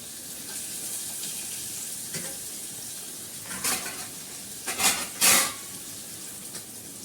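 Spices and ginger paste sautéing for a potato curry (aloo dum) make a steady low sizzle in the pan, with a few louder scraping bursts near the end; no talking.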